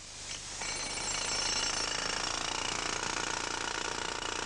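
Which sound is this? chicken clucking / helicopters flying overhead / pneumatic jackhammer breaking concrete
pneumatic jackhammer breaking concrete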